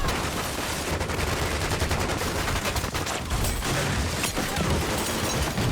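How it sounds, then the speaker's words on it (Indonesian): Dense, sustained gunfire from a film shootout with a triad gang, rapid overlapping bursts of shots and booms filling the whole stretch, loud and continuous with no talk. "Itu adalah kelompok triad dan berondongan peluru dimuntahkan"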